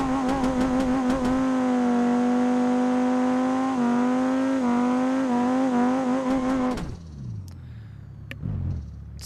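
A red 200bx car on a drag run in BeamNG.drive, its engine holding a loud, steady high-rev drone for several seconds before cutting off abruptly, followed by a few fainter clicks and thumps.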